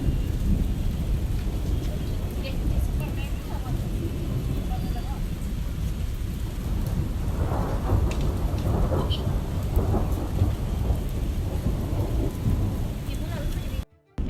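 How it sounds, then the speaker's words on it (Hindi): Heavy rain pours steadily on surfaces while thunder rolls and rumbles through a storm, a dense continuous wash of sound that cuts off abruptly at the end. "बारिश हो रही है"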